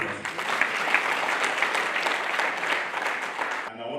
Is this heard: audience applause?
yes